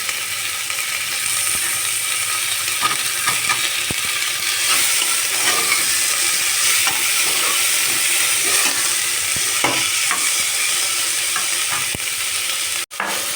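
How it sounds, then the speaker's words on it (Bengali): Tomatoes and potato pieces fry in a pan while being stirred, a steady sizzle running throughout under repeated scraping, clicking strokes of the stirring utensil, close and fairly loud. "টমেটো কিছু দিয়ে আরেকটু নাড়িয়ে নিয়ে এবারে এর মধ্যে আমি টুকরো করে রাখা আলুও দিয়ে দিচ্ছি"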